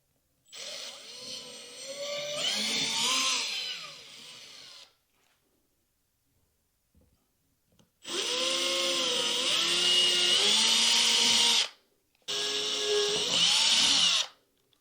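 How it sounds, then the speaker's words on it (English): A power drill whines loudly in three bursts separated by pauses, drilling a small pilot hole for mounting a TV, pitch shifting as the bit bites into the wall, close by. "you want to just kind of start off drilling a small hole first, just get it started"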